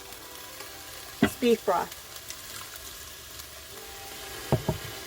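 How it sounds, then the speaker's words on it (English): Red wine and beef broth hit a hot Instant Pot after a beef roast, deglazing with a low sizzle and short scraping bursts, while someone speaks briefly near the start. "I'm going to deglaze, so I'm going to put a little bit of my wine in."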